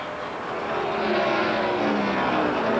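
The Indiana Steel Chevrolet number 02 ARCA SuperCar at Pocono International Raceway drones through a corner at high revs, loud and steady, with a slowly rising engine pitch and no voices.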